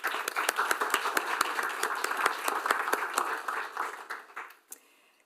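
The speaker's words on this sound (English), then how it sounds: "Let's take a moment to show our appreciation with a round of applause." An audience at a school board meeting applauds with steady, fairly close clapping that tapers off and stops near the end.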